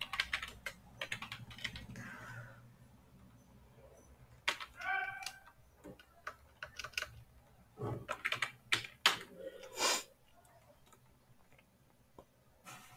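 Someone types program code on a computer keyboard, delivering close bursts of rapid key clicks separated by short pauses, with one louder keystroke near the end and no talking.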